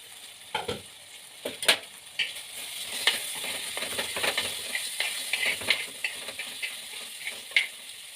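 Fish curry fries in a pan with a bright continuous sizzle, punctuated by repeated scraping and clinking as a utensil stirs it up close.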